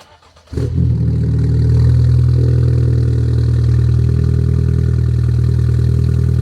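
A BMW 330e fitted with an aftermarket exhaust fires up after a brief quiet moment, then settles into a loud, steady, deep engine drone heard up close, with no one talking.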